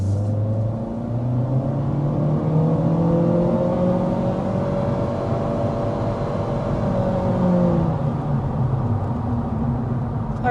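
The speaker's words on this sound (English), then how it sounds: "there is an acceleration up to about 55 miles per hour" A 2025 compact sedan, either a Kia K4 or a Honda Civic, accelerates uphill to about 55 mph, the engine droning and rising in pitch in a long continuous pull with a shift partway, heard from inside the cabin without talking.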